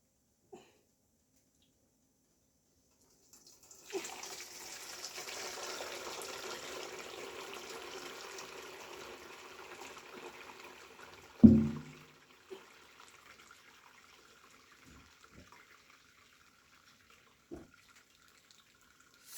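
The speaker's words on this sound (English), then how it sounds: "I'm just gonna pour it and strain it" Goat milk curds and whey pour into a strainer in a steady liquid stream lasting several seconds, followed by a clunk and a few scattered drips and taps as the flow stops.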